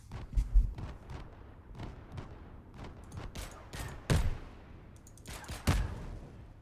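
Enemy gunfire in a heat-death survival video game: sharp shots cracking out at irregular intervals, a few standing out louder and closer over a steady low rumble, with no talking.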